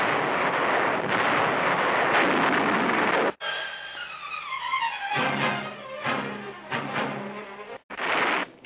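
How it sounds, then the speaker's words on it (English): Bombs exploding along a coastline during a B-24 bomber raid, a loud rumbling roar broken by abrupt cuts, with repeated heavy blasts and a falling whine in old, harsh newsreel sound. "Enemy positions and installations along the entire coast are blasted again and again."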